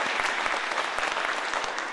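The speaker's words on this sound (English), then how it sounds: "Let's give them applause again." Steady applause from a seated audience at a career networking talk, dense clapping throughout with a few sharper individual claps standing out, no speech.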